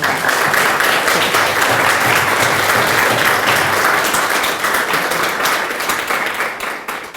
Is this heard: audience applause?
yes